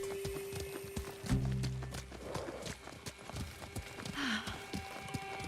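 A horse's hooves clip-clop in Ghost of Tsushima, a steady walking rhythm of close, distinct hoofbeats, with a brief whinny and other game sounds layered over it.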